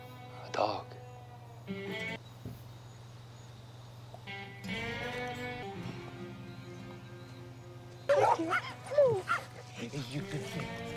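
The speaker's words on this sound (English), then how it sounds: "A dog." A dog barks in an animated Cowboy Bebop episode, a few sharp yips near the end over a steady low hum, with people talking earlier.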